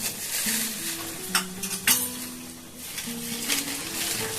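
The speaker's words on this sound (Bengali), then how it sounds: "দেখুন তেল গরম হয়ে গেছে, এখন দিয়ে দেবো আবার আমি একটুখানি কালো জিরে" Nigella seeds tipped into hot oil for a gourd-stem chorchori crackle and sizzle close up, with a few sharp spoon clinks against the pan and steady stirring scrapes.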